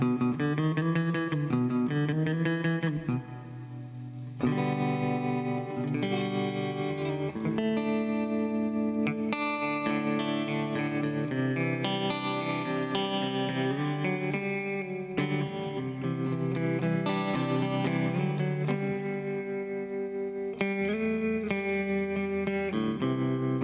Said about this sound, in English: just some light tremolo with a bit of reverb in there, some delay